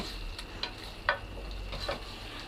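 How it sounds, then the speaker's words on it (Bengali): Fried spices are stirred into chicken kala bhuna in a pan, producing a soft continuous sizzle punctuated by a few sharp scrapes and taps of the spoon, close and fairly quiet. "আমি ভালোভাবে ফোড়নটি মিশিয়ে দিচ্ছি"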